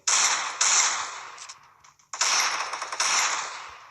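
Rapid bursts of gunfire from a video game, loud and dense, in two long volleys separated by a brief pause, with no talking over it.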